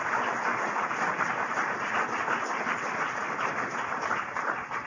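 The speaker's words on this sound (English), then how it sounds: "Would you give him another big round of applause?" A political rally crowd in New York gives a sustained round of applause and cheering, a dense even wash of clapping that holds steady for several seconds without pause.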